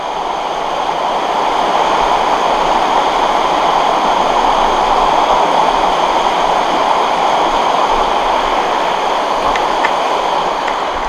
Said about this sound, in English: Can you see the waterfall?